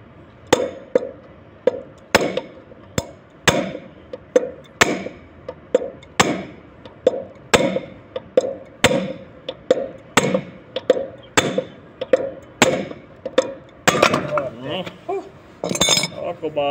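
Metal chisel struck repeatedly with a hammer during work on an air-conditioner condenser fan motor, sharp ringing clinks in a steady rhythm of about one or two blows per second, close and loud throughout.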